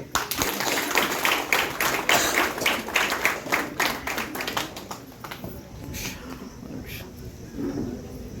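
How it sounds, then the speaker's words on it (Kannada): An audience applauds at a college farewell ceremony for final-year students. Dense clapping from many hands rings out through a hall, then thins out and fades into scattered claps and a murmur near the end. "ಚಪ್ಪಾಳೆ ಬರಲಿ"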